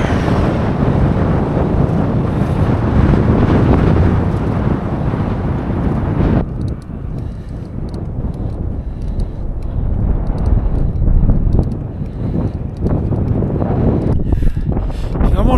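Strong wind roars loudly and continuously into the microphone while cycling downhill in Peru, a harsh, buffeting rush that dips briefly midway before surging again.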